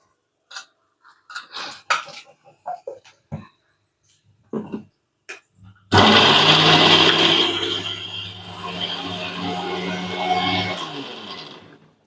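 Two medium tomatoes are ground in a kitchen blender: a few clinks and taps as the jar is handled, then a loud, close motor whir for the last six seconds, steady with a slight dip midway.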